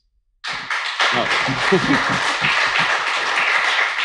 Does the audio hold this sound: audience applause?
yes